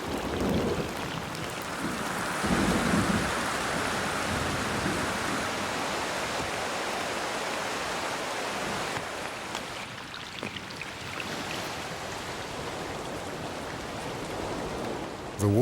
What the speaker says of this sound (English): This is an isolated storm, but it's a sign the rainy season isn't far away.